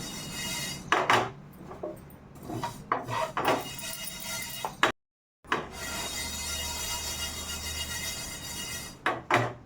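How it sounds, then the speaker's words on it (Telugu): Fenugreek seeds are dry roasted in a pan over a low flame: close, irregular scrapes and rattles of the spoon against metal, with a steady low hiss under them and a brief silent gap. "ముప్పావు టీ స్పూన్ మెంతులు లో ఫ్లేమ్ పెట్టుకుని డ్రై రోస్ట్ చేసుకోవాలండి"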